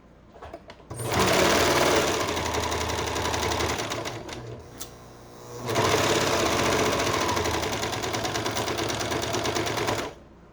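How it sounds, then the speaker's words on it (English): A serger sewing machine runs fast, stitching a side seam on bell bottom pants in two loud bursts of rapid whirring stitches with a brief pause between, close up and without talk. "if you've never used a serger, just know these things are fast"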